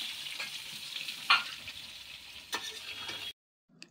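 Mango pieces with whole spices are stirred in oil over a low flame for a jaggery mango pickle, giving a soft, steady sizzle with a couple of spoon clicks before it cuts to silence.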